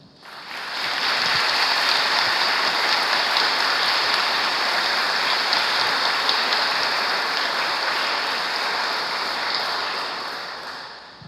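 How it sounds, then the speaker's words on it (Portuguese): Congregation at a Holy Thursday Mass breaking into sustained applause, a dense even wash of clapping that swells in, holds steady for several seconds in a reverberant church, then tapers off. "Podemos aplaudir"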